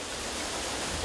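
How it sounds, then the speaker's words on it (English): Steady broadband roar of a 30-meter waterfall on the Agua Grande River, a continuous rushing wash of water with no breaks, heard alone. "a waterfall with a 30-meter drop"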